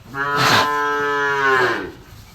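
A young Holstein Friesian calf lets out one long, loud moo, drawn out for about two seconds, close up with no talking.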